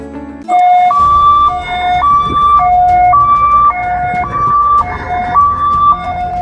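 A loud ambulance siren wails in a steady two-tone pattern, alternating high and low pitches continuously and close by, in an ambulance service advertisement.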